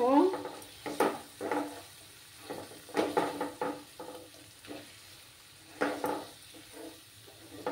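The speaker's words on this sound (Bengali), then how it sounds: "বেসনটাকে অ্যাড করে এটাকে ভালো করে মিক্স করে নেব।" Spoon stirring gram flour (besan) into a vegetable mixture in a pan for a vegetarian Bengali dinner, with repeated scraping strokes and light sizzling, close and clear with no talk.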